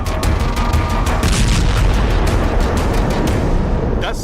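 Loud, continuous booming rumble from missile strikes on the Gaza Strip fills the whole stretch, with heavy low-end blasts and no speech.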